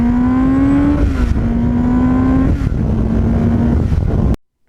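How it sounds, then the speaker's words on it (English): A 1989 Kawasaki GPX750R motorcycle with a Muzzy muffler runs loud and close, its engine pitch climbing and then dropping at each gear change through several shifts before cutting off. "every time you go through the gears on this bike. It just had that MUZZY muffler."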